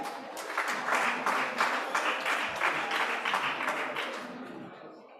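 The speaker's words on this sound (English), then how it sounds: "Please clap for her." Participants at a climate justice summer school workshop in Nairobi clapping together in a full, warm round of applause that swells quickly, holds steady, then thins out and fades near the end.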